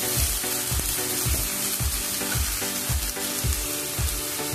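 Spices with ginger paste and salt frying in a pan for a mushroom and egg curry, a loud steady sizzle punctuated by regular rhythmic stirring strokes about twice a second, close up with no talk.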